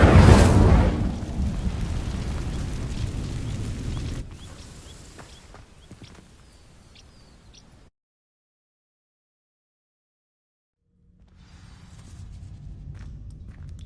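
An Incendio fire spell bursts into flame as it ignites dry vines in Hogwarts Legacy, opening with a loud whooshing blaze that fades into a crackling burn, then near silence before low ambient rumble returns.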